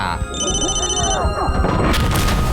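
A deep boom from a grenade explosion in Insurgency: Sandstorm hits near the end, bursting loudly after a stretch of game noise, with a high electronic tone and a voice talking over it.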